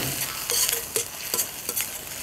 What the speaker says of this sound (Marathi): हळद घातल्यानंतर व्यवस्थित मिक्स करून घ्यायचं आहे